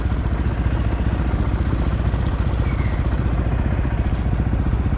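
A 2020 Sherco 500 SM supermoto motorcycle engine idles loudly and steadily up close, with a rapid, even thumping pulse and mechanical clatter.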